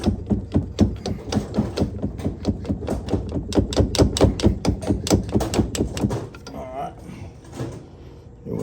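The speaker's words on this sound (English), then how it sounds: "try to tap the screwdriver back in there again" A screwdriver is tapped repeatedly with a hammer to free a stuck golf cart electric motor, a rapid series of sharp metallic knocks for about six seconds, then a quieter stretch of handling sounds.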